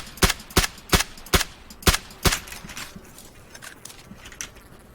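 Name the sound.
gunshots in a video game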